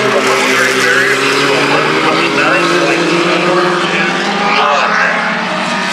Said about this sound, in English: we're still enjoying the racing here. It's more qualifying at Mid-Ohio.